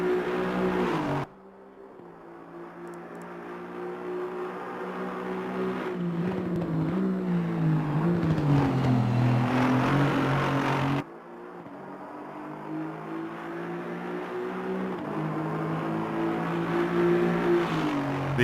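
A GT2 race car engine heard from outside the car at the Red Bull Ring in a racing game, droning and revving through long pulls with steadily rising pitch, two abrupt cuts breaking the sustained roar.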